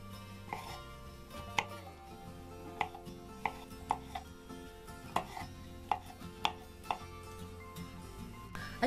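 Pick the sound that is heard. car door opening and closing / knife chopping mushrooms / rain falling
knife chopping mushrooms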